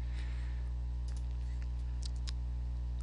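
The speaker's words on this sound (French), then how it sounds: "nous devons appuyer à partir du carnet sur la touche fonction, la touche en vert sur le clavier" A few quick, faint clicks from keys pressed on the keypad of a Leica CS15 field controller running Smartworx Viva, set against a steady electrical hum, with no talk.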